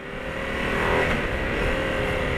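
A Husqvarna Nuda parallel-twin two-cylinder motorcycle engine revs steadily and close by, a continuous loud drone that swells slightly midway with no talk over it.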